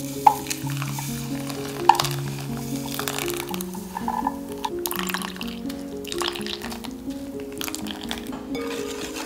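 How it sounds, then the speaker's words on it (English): Strained coffee liquid pours and trickles into a bowl of egg yolks and sugar with soft splashing and stirring, close by, over a faint musical background. "Strain and add the coffee liquid."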